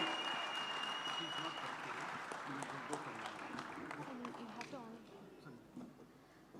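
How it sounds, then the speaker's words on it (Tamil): Round of applause from an audience at a hospital book launch event, moderately faint clapping with background voices and murmurs, fading near the end. "மீண்டும் ஒரு முறை ஒரு பெரிய கைத்தட்டல் கொடுத்துடலாம்."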